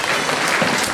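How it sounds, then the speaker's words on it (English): Audience applause at a zoo animal show featuring rats, a dense, steady burst of clapping from a crowd filling the whole second. "Should we give Elliot and our rats a really massive round of applause?"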